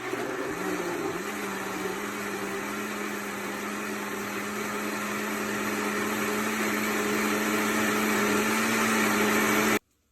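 A kitchen blender whirs steadily as it purées tomatoes, a loud continuous motor drone that shifts pitch slightly near the start, holds for about ten seconds, then cuts off abruptly.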